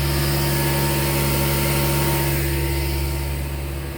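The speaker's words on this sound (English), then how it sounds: "So what I'm doing is I have my air compressor" An air compressor runs continuously nearby during cleaning of a 2016 Dodge Challenger R/T 5.7L engine, a loud steady motor drone with a constant hum, slightly fading toward the end.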